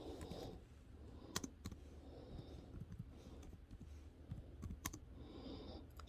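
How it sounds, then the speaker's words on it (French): Someone types on a computer keyboard in a quiet room, with sparse, irregular keystrokes and a few sharper taps spread across the stretch. "allez taper ici Visa Bulletin"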